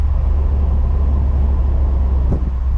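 Interior drone of a 1998 Mercedes-Benz SLK 230 on the move, a steady low road and engine rumble with a brief faint bump near the end.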